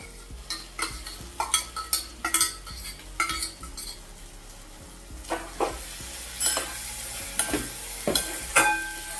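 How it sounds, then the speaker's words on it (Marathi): Pav bhaji masala paste being stirred and sautéed in a pan, with repeated scraping strokes of a spoon against the metal and a soft sizzle underneath, close and fairly loud, no talking. "सगळं एकजीव करून घेते आता हे छान परतून झालंय आपलं"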